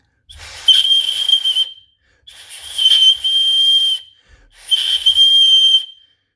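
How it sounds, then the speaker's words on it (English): A small titanium emergency whistle on a ToolFob multitool is blown three times, each a loud, shrill, breathy blast of roughly one to one and a half seconds, close to the microphone, with short silent gaps between. "You can carry around this little emergency whistle"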